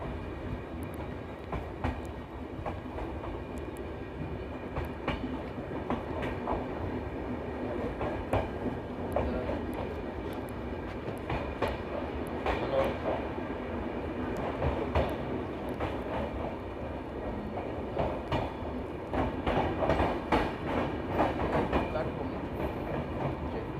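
The Darjeeling Mail passenger train runs through the night with a steady rolling rumble and faint clickety-clack of wheels, heard from inside the carriage.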